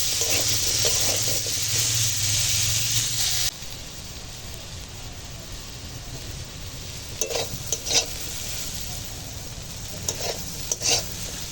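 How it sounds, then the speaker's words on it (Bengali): Pumpkin pieces frying in a pan with a dried red chili tempering for a Bengali vegetarian dish, giving a steady close sizzle with stirring scrapes and a few louder clatters. No one speaks. "এখন এই শুকনো লঙ্কার ফোড়নে মিষ্টি কুমড়োটা রান্না করবো"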